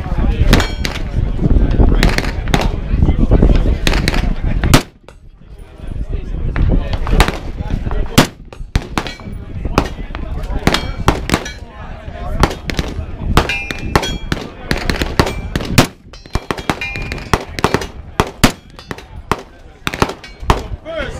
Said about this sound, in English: commence firing. Take it all safe and engage your targets.